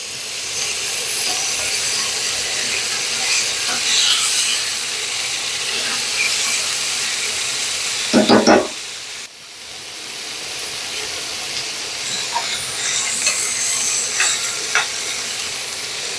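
Venison for a chipotle quesadilla sizzles loudly and steadily in a frying pan, close up, with a brief burst of scraping as the meat is flipped partway through.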